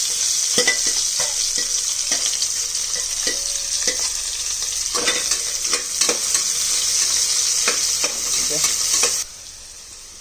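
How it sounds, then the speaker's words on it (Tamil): Sliced onions, green chillies and curry leaves sizzle steadily in a pan for veg pulao, with a constant hiss broken by repeated scraping stirs. The sizzle drops off abruptly near the end. "கறிவேப்பிலை வெங்காயம் நல்லா வதங்கட்டும்"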